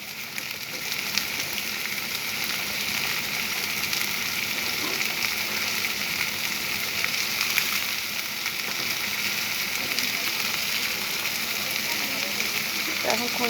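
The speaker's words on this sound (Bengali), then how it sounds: "এখন খুন্তি দিয়ে নেড়ে নিচ্ছি।" Food frying in a pan while a spatula stirs it, giving a steady loud sizzle and hiss with scraping movement throughout, and a voice talking over it at times.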